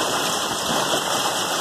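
Dense hail clatters steadily onto the ground and a car, a loud, continuous rattling hiss with no pauses and no voices.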